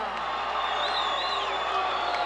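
A dense, steady roar from an arena crowd on its feet cheering for wrestler Superfly Jimmy Snuka at a 1984 WWF event, with whoops rising above the constant wash of noise.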